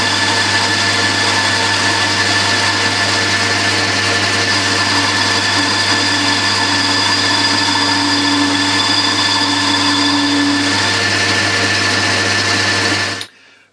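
A metal lathe runs with a boring bar cutting a 1.5 degree taper, a loud steady motor hum with a faint rising cutting whine midway before the machine stops abruptly.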